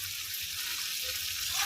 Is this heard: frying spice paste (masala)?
yes